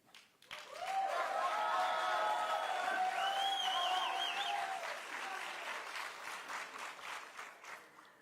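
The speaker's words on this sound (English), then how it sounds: "One last cheer for your teams." Audience at the 2018 PetroBowl finals cheers and applauds for the competing teams, a loud sustained wash of clapping with shouts and whistles that swells quickly, holds for several seconds, then thins out.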